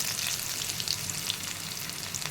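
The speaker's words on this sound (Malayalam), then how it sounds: "നമുക്ക് കടുക് പൊട്ടിക്കാണ്. കടുകിട്ട് ചെറിയുള്ളി അരിഞ്ഞ്" Mustard seeds and chopped shallots crackle and splutter in hot oil while tempering for a coconut chicken curry: a dense, steady sizzle with sharp popping bursts throughout, close and fairly loud.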